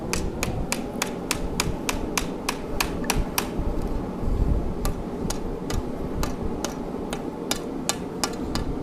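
Rawhide mallet strikes on hot metal at an anvil while forging a decorative baroque hook: a steady series of sharp, evenly spaced taps, close and clear, with a short pause midway before the blows resume.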